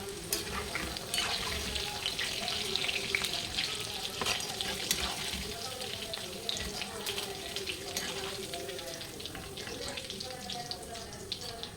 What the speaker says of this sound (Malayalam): ഞാൻ പിന്നെ പാത്രം കഴുകലും അങ്ങനത്തെ കാര്യങ്ങളൊക്കെ ചെയ്യണ്ട